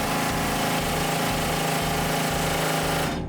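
A rock drill machine boring into a wall, shown in Australia, hammers with a loud continuous rapid pounding and a steady mechanical drone that runs the whole length, then cuts off abruptly at the end.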